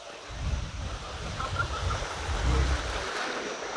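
Water rushing at TK Falls, a waterfall, as a continuous dense roar of flowing water mixed with low wind buffeting on the microphone, steady and fairly loud with no pauses.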